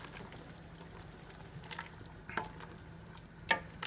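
Minestrone soup gets a gentle stir in a pot: quiet, soft scraping and a few light spoon clinks against a low background simmer, faint and unhurried.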